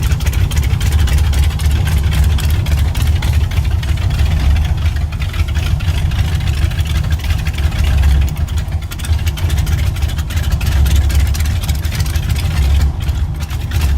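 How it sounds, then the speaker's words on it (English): Heavy low rumble of a twin VW engine in a Type 3 Squareback gasser, heard from inside the cabin as a loud, steady idling drone with a throbbing low end and no speech. "Hopefully you guys can hear this rumble. The seat is rumbling, you guys."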